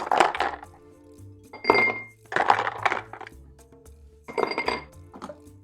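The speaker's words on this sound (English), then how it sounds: "Add some ice cubes to an old-fashioned glass." Ice cubes dropped into an old-fashioned glass for a pineapple cocktail, four distinct clinking clusters with short pauses between, close and bright.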